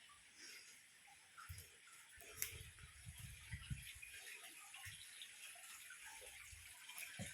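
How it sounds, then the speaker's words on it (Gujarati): Water trickles and splashes steadily from a stone inside a Mahakali Mata temple, a soft continuous flow with occasional small drips and gurgles, faint and close with a hiss of ambience. "માતાજીના મંદિરમાં પથ્થરમાંથી પાણી આવે છે"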